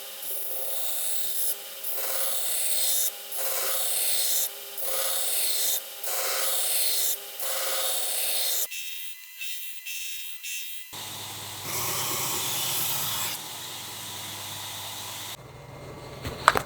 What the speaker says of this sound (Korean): 자, 이렇게 1차로 그라인딩을 마쳤습니다